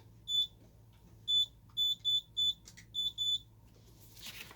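A Simplex alarm panel sounds its exit delay: short, piercing electronic beeps in an uneven series with small gaps, followed by a brief rustle at the end.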